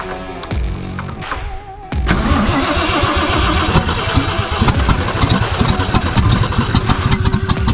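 The engine of a 1973 Toyota Land Cruiser FJ55 project truck cranks with a brief stutter, then catches and keeps running with a loud, rough, close-up rumble.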